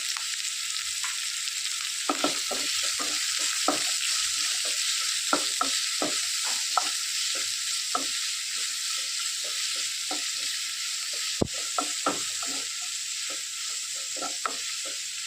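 A Kerala drumstick stir-fry with green chillies and salt is stirred in a pan: repeated spatula scrapes and clacks over a constant soft sizzle, irregular in rhythm, close and clear.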